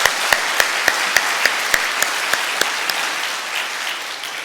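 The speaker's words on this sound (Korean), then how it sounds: "우리 살아계신 하나님께 영광의 박수를 올려드리겠습니다." A church congregation claps in unison, a steady rhythmic beat of sharp claps about three per second over a wash of general applause, gradually loosening toward the end.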